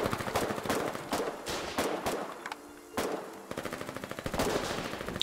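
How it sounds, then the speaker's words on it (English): Burst-fire gun in the game Foxhole, heard as several rapid clusters of sharp shots, each click loosing three rounds, loud and close with short pauses between bursts. "Oh, I click once and it shoots 3 times."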